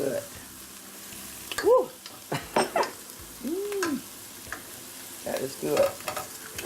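Cauliflower sautéing in a pan, with a soft sizzle under intermittent stirring and scraping, while someone talks close by with an exclamation and brief comments.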